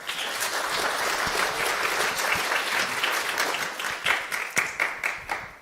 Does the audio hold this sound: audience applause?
yes